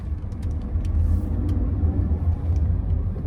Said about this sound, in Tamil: அப்படியே லேசாக ஆக்சிலேட்டர் தட்டினாவே வண்டி அப்படியே சீர்ற மாதிரி இருக்கு.